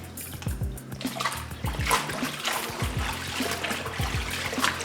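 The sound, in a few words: collard greens pushed down and rinsed in water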